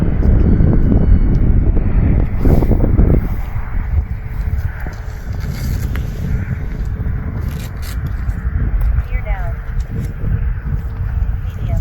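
An Eflite P-47 Thunderbolt 1.2 m electric RC model plane on a 4S battery flies in gusty wind, its motor a steady drone under heavy wind buffeting on the microphone throughout, with the pilot talking.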